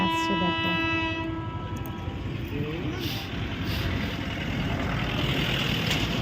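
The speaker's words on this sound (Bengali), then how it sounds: "সেই যে ট্রেন আসছে দূর থেকে" A freight train approaching from a distance gives a long sustained horn blast at the start, then a steady rumble of rolling wagons building under faint background noise, with no speech.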